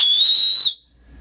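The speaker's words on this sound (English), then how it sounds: "I'm gonna play around a bit more with my regular old screeching whistle." A loud, screeching whistle gives a single piercing, steady high blast held close for about two-thirds of a second, then cuts off abruptly into near silence.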